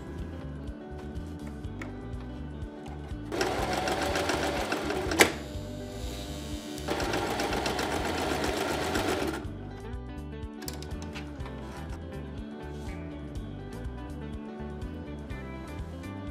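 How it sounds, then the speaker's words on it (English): A sewing machine stitches fabric pieces together in a steady rapid whirr lasting about six seconds, with one sharp click partway through, over a faint constant background hum. "Now, sew the pieces of fabric together like this."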